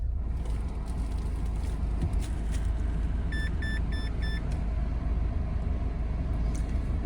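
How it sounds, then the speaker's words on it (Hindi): A 2025 Mahindra Scorpio N Z2 base-model SUV idles with a steady low engine rumble, heard from inside the cabin, with a short run of electronic chime beeps partway through. "ये मैंने गाड़ी स्टार्ट कर दी है।"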